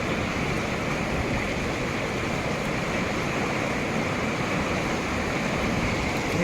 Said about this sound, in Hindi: देखिए कितनी तेज धारा बह रही है माँ नर्मदा की